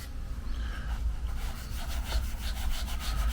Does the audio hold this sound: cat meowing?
no